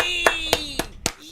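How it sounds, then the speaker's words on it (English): Scattered hand claps from a small audience at a Monday night open mic, four distinct claps spaced evenly, close and moderately loud against a steady background tone. "All right, give him that applause again."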